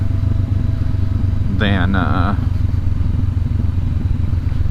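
A 2019 Honda CB500X rides on the road in Oregon, its engine droning steadily and loudly under wind noise while engine braking, with a rider's voice briefly over it.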